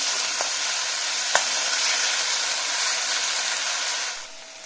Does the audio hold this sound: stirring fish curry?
yes